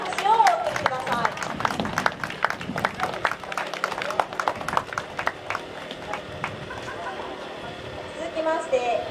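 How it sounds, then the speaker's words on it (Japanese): Spectators applaud at a trophy presentation after a Japan–Korea friendship basketball game, giving scattered, uneven clapping that starts fairly close and thins out into a quieter patter, with voices and crowd murmur around it. "皆様大きな拍手をお送りください。"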